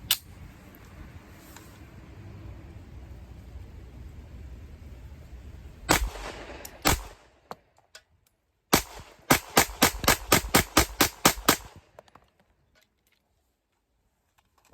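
Shadow Systems CR920P pistol firing: a few sharp isolated shots early, then a quick string of about ten loud cracks in rapid rhythm before falling silent, with faint low rumble between, no voices.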